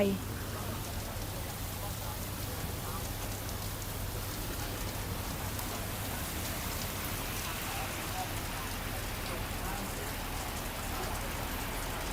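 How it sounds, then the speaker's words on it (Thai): Heavy rain pours steadily and densely throughout, a continuous loud wash of drops outdoors near a collapsed building site. "ตอนนี้ก่อนฝนตก หนักเลยนะคะที่ด้านหน้า"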